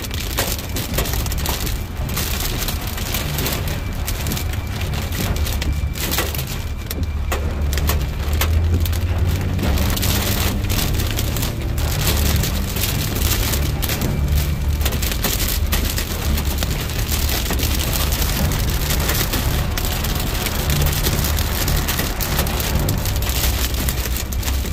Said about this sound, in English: Youngstown near Baggaley picking up pea-sized hail.